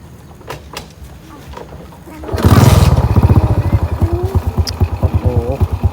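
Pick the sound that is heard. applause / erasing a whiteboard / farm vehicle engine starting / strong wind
farm vehicle engine starting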